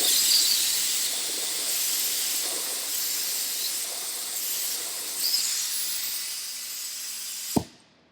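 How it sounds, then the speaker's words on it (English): Compressed air hisses steadily through a faulty solenoid held in a tester, a broad continuous rush that carries on after it clicks, ending in a sharp click and sudden drop. "although it clicked, it didn't seal off the airflow, and so that solenoid is not working properly"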